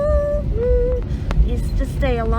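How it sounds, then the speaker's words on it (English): Soft cabin chime on a Jetstar Airbus A321 before takeoff at Melbourne Tullamarine, alerting crew to be seated: a couple of steady tones over constant cabin hum, with voices murmuring nearby. "is just the alarm to alert the crew of like please be seated for takeoff."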